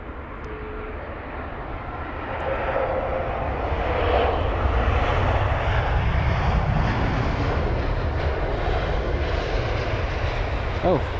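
A British Airways Airbus A320-200, 22 years old, on flight BA1309 from Aberdeen, arriving at London Heathrow, rumbles steadily with a broad engine roar that swells after a couple of seconds and holds fairly loud throughout.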